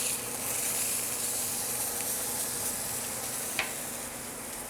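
A large piece of fish sears in a hot pan, giving a steady, close hiss and crackle that holds evenly throughout, with one brief sharper pop near the end and no voices.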